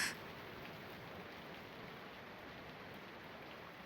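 Rain falls in the visual novel game Robotics;Notes Elite, a steady soft hiss of drops that stays even and faint from start to finish, with no voices over it.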